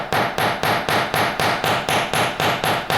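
The curved side of a planishing hammer strikes wire set in a hex block in a jewelry workshop, about a dozen sharp, evenly spaced metallic blows, loud and close.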